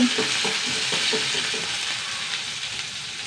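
Five or six shallots fry in a pan with oil, giving a steady broadband sizzle and a few soft stirring scrapes early on, close and continuous without talk.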